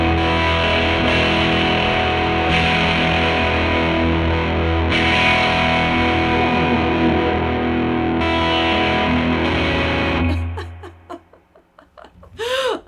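Electric guitar run through an OBNE Beam Splitter pedal, a thick distorted wash of sustained chords with shimmering modulation that swells, then drops away into a few sparse picked notes near the end.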